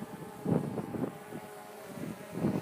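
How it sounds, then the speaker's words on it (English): Gusty wind of about 25 miles an hour buffets the microphone outdoors, rising in rough rumbling bursts roughly every second or two with no talking. "This is about 25 an hour wind. It's a little windy."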